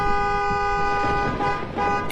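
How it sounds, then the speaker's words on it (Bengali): A car horn honking outside a house, a sustained toot held nearly two seconds with a short dip near the end, moderately loud, with no talking. "এটা গাড়ির আওয়াজ ছিল না?"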